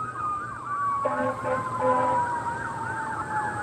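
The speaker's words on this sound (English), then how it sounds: "usually you don't hear sirens over here, so something had to have happened" Wailing emergency sirens rise and fall repeatedly, with a second siren cutting in partway, sounding some distance away over low traffic rumble.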